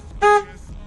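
A single car horn toot sounds from the Trekker 2 vehicle, loud and close, lasting about a fifth of a second, with a steady bright tone and low background noise around it.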